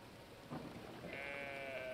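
Sheep bleating in the video game Brothers: A Tale of Two Sons, a faint short bleat or two over a soft ambient game backdrop, no talking.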